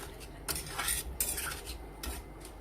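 Potatoes with a little water and chopped onion stirred in a pot, with metal spoon scrapes and clinks against the vessel coming in a few separate bursts over quiet background.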